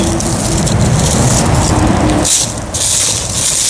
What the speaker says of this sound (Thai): ทั้งเสียงรถ เสียงลม